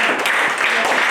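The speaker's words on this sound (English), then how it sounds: "clap our hands for someone." A church congregation at a home group service claps its hands, a loud, dense burst of applause with a voice briefly heard over it.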